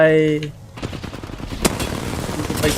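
Machine-gun fire in Apex Legends rattles off in a fast, close volley of sharp shots that runs for a couple of seconds after a brief tonal sound at the start, with a voice speaking.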